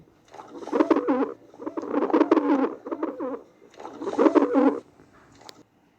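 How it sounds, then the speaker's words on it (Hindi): A pigeon coos in three throaty, burbling phrases with short pauses between, close and clear against a quiet background. "कबूतर की गुटरगू।"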